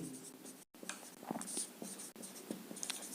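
Chalk or marker strokes on a board during a Class 12 physics lesson on capacitor combinations, a run of scratchy taps and scrapes close by with a short silent gap near the start.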